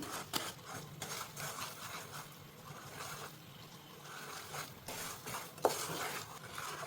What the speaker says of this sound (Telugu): బెల్లం కరిగేదాకా కలుపుకోవాలి